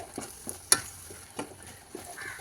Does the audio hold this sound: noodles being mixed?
yes